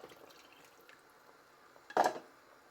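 A small splash of water is poured into a cooking pot for a pistachio sauce, a short quiet trickle followed by one louder burst of pouring and dripping near the end.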